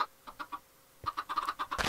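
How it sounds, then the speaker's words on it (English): Chickens clucking in the Minecraft video game, a few short separate clucks followed by a denser run of quick clucks toward the end, moderately close and clear with no talk over them. "I don't remember spawning so many chickens."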